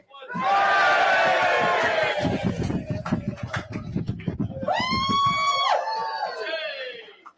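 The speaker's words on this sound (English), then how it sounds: "Give us a 1, 2, 3 cheer." A rally crowd at a Reform UK party event with Nigel Farage lets out a loud, sustained cheer and yelling, fading into scattered whoops and higher shouts.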